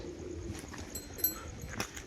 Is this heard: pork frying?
no